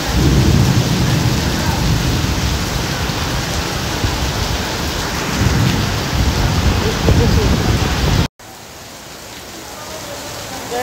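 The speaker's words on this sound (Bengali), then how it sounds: "সারাদিন কোনো বৃষ্টি নাই, আজকে এতটা বৃষ্টি, প্রচুর পরিমাণ বৃষ্টি" Heavy rain in Malaysia pours in a dense, steady roar close by, cutting off abruptly near the end before continuing more faintly.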